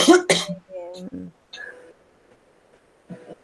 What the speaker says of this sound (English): do you have cough?